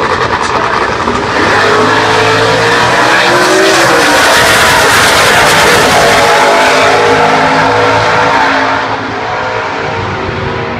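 A Mustang Cobra Jet drag race car with a 5.4 liter overhead cam engine, racing at the U.S. Nationals, roars loud and close with a sustained wide-open howl that climbs in pitch, then fades slightly near the end.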